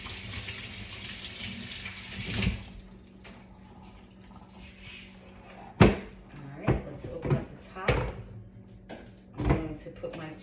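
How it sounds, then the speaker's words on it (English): Water runs from a bathroom tap for a couple of seconds as hands are rinsed, followed by quieter clunks and knocks, with a person talking throughout. "I want to rinse my hands off"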